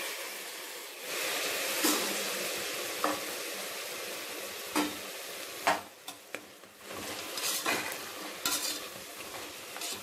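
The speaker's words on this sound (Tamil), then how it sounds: "இந்த காய்கறி 1-2 நிமிஷம் வேகட்டும்" Chopped vegetables and soaked peas sauté in a hot pan for vegetable biryani, giving a steady sizzle broken by sharp clicks and scrapes as a spoon stirs, with no talking.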